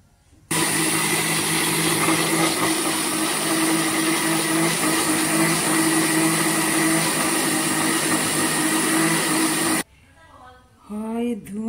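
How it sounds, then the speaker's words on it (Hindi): A kitchen mixer grinder whirs loudly and steadily for about nine seconds, pulverizing hot, steaming spinach for palak paneer, then cuts off abruptly, leaving someone speaking close by. "ये पा, पालक है ना पालक पनीर बनाने के ऐसे ही बनाते हैं ये देखिए धुआं निकल रहा है इसमें से इसको पीसेंगे"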